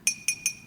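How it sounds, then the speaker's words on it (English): A teaspoon tapped on a drinking glass, either stainless steel or gallium, gives three quick bright ringing dings at an even pace, each decaying briefly, close and fairly quiet with no talk. "this spoon makes a nice ding when I ding it on the glass"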